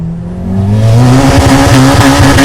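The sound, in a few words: turbocharged Honda Civic Type R EP3 engine revving at full power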